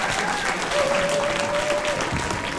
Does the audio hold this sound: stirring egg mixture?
no